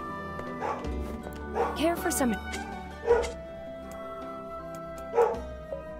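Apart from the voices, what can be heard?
dog barking in Nier Replicant video game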